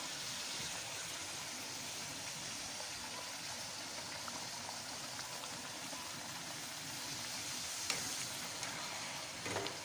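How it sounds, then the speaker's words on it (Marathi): Semolina pani puri puris fry in hot oil over a low flame, giving a steady, dense crackling sizzle that runs unbroken and fairly close throughout, with a couple of small pops near the end and no talking. "मला बारीक गॅसवरती आता हे करून घ्यायचं चांगलं तळून घ्यायचं म्हणजे खुसखुशीत होतात"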